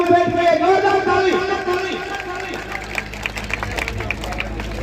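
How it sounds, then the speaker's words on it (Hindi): A village crowd in Kumbhara claps for the newly elected sarpanch at a welcome gathering. The applause builds into a dense patter of many hands beneath a loud, amplified voice or music that runs throughout. "सरपंच साहब के लिए जोरदार ताली"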